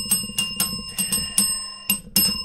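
A small bell rings in a series of about seven sharp, bright strikes with ringing tones, struck in an uneven rhythm, fairly close and loud, with no talking over it.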